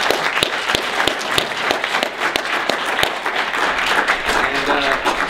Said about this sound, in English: one more warm welcome round of applause